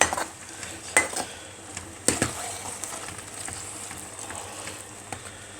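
Food being stirred in a cooking pot with a large spoon, scraping and clinking against the metal in a few sharp knocks over a low steady sizzle, close and alone with no voices.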